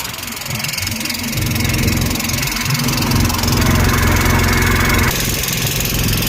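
A boat engine drones steadily during a river ride in Kashi, a loud, close, continuous mechanical hum with a rough low rumble that holds throughout, with no one talking.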